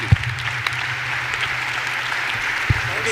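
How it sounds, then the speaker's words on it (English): An audience applauds a conference panel in a large hall, a steady wash of clapping with a few louder individual claps standing out. "A round of applause for the panel and for Jason Statham, aka Mark."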